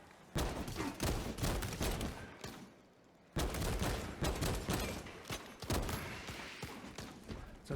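Rapid, continuous gunfire from the Space Marine 2 video game, with loud dense bursts that break off briefly for a short pause before the shooting resumes just as heavily.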